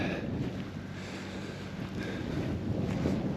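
Steady gusting wind on an open stretch of the Knobstone Trail near Deam Lake buffets the microphone with a low, rumbling roar that swells slightly toward the end; no voices.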